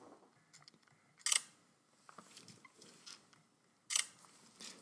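A Sony a9 camera gives off its simulated electronic shutter signal, two crisp, short clicks a few seconds apart, close and quiet, with faint handling noise between them and no speech.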